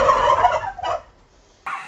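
A Hybrid Converter turkey, about 14 weeks old, gobbles loudly nearby in a quick rattling burst, then a second short gobble follows after a pause.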